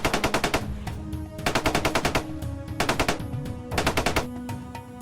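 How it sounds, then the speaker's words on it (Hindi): Dramatized machine-gun fire for a 2013 ambush in Jheeram valley, Sukma, Bastar: four rapid, loud bursts of automatic shots, each a tight stutter of cracks separated by short pauses, with no voices. "और अचानक झीरम घाटी में गोलियां बरसनी शुरू हो गई।"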